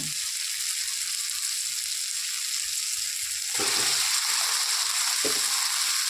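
Potato bharta being mixed in a pan, giving a steady soft sizzle throughout with a few brief scraping stir sounds near the end, fairly quiet and without voices.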